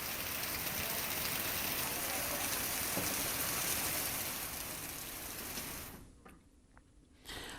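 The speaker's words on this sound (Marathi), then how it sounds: "तुरळक सरी झाल्या" A sudden rain shower falls during the rice harvest season in Maharashtra, a steady broadband hiss of rain that stays loud and even before dropping away abruptly near the end.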